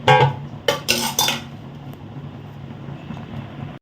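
Masala puffed rice being fried and stirred in a pan, with a few loud metallic scrapes of a spoon against the pan in the first second and a half, then a steady low sizzle and rustle until the end.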